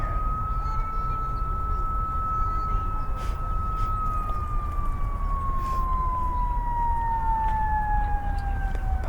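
An ambulance siren wails in one long, slowly falling tone over steady traffic rumble near a hospital, fairly loud and gradually drifting lower as it passes.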